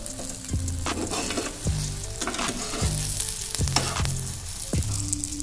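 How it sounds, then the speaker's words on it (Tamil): Beaten eggs fry in hot oil with a strong, close sizzle, while a spatula scrapes the pan in a regular rhythm about once a second as the eggs are stirred. "இப்போ கலந்து வச்சுருந்த முட்டை கலக்கியே சேர்த்துடலாம்."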